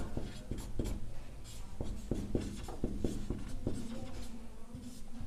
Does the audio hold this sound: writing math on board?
yes